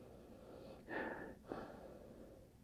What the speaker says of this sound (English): let's take a sniff of the aroma